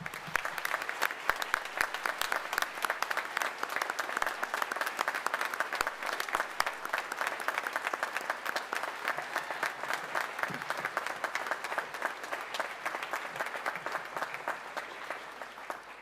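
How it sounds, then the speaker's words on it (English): Sustained audience applause at a Wrexham University graduation ceremony, a large hall of steady, dense clapping continuing evenly for about sixteen seconds before easing slightly at the end. "Please join me for a round of applause to thank your support networks"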